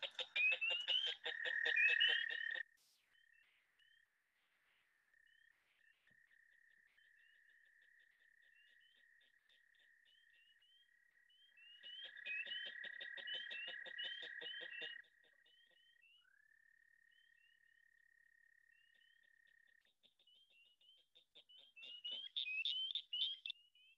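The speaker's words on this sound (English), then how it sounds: "There were actually three species of frogs calling in that one." Three species of frogs call around St. Louis: a loud burst of rapid trilled calls at the start, then a steady faint high whistling trill, a renewed chorus midway and another loud burst at the end.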